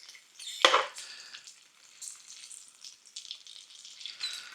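Bacon sizzles steadily in a frying pan, a loud crackling hiss near at hand with a sharp clatter early on, continuing alone without talk.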